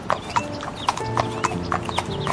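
Rhythmic clip-clop of a horse's hooves as a king rides faster through a jungle while hunting a lion, loud and close across the whole stretch, with a brief neigh-like tone and no speech.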